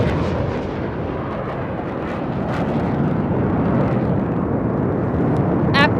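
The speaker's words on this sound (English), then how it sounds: "a single Rafale aircraft flying at a speed of 900 kilometers per hour, carrying out a vertical Charlie" A single Rafale jet flying at about 900 km/h and pulling a vertical Charlie manoeuvre over a Republic Day parade, a loud, continuous broadband engine roar that stays steady throughout, with brief higher tones near the end.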